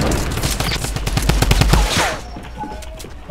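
Loud automatic gunfire in a Fortnite match, a rapid stream of close shots for about two seconds that then breaks off into quieter game ambience.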